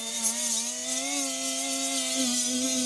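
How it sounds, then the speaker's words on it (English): Milwaukee right angle die grinder with a small cutoff wheel, running steadily as a close, sustained high whine with a strong, even pitch and no talk. "I love this Milwaukee little whiz wheel. I call it a whiz wheel. It's like a right angle die grinder"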